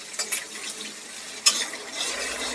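Chopped onions hitting hot oil with bay leaf and cardamom in a pan, a soft, steady sizzle with a few brief clatters near the start and middle, fairly faint and with no talk.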